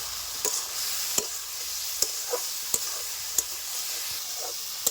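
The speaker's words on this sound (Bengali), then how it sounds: "বলগুলিকে আমি ভালো করে কষিয়ে নিয়েছি" Fried balls sautéed with torn green chillies in a pan, giving a continuous frying hiss punctuated by sharp, regular spatula knocks against the pan, close and fairly clear without speech.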